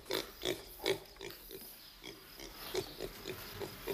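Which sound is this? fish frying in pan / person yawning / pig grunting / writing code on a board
pig grunting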